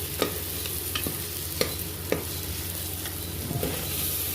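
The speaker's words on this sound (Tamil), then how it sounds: "இப்போ தக்காளி வதங்கட்டும்" Tomatoes and chicken pieces sizzle steadily in a curry pan, with a spoon clinking and scraping at intervals over the constant close frying hiss, no voices.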